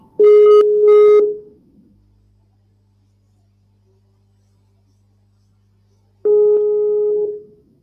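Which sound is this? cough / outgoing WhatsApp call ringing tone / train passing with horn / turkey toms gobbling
outgoing WhatsApp call ringing tone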